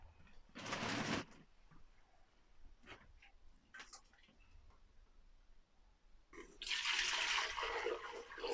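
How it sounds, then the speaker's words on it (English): A tap gushes ice cold water into a sink for brewing, in two loud bursts of running water separated by a stretch of faint ticking and small handling sounds. "Just fill it with ice cold water"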